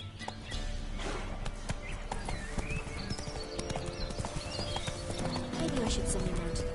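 Horse hooves clip-clopping in The Witcher 3: Wild Hunt, a steady rhythmic trot of close, crisp hoofbeats running throughout alongside ambient game sounds.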